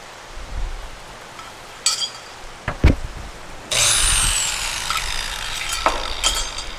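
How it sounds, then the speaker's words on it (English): Short bursts of a power drill whirring on the transmission tunnel of a 1967 Chevelle, then a sustained loud drilling run with a rising whine, close up, no talking. "Now when you're drilling like this, be sure you got a good hold onto this thing"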